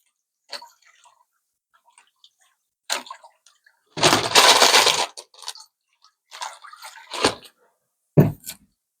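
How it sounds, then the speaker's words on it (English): Gemstones rinsed under clean water, with a roughly one-second burst of running, splashing water in the middle and scattered brief clicks and clatters of stones around it. "Clean water over them, get those things all rinsed."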